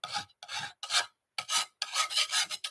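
A scraper rasps over a craft church model to give it a stone look, in about six close, dry scraping strokes separated by short pauses, with no voices.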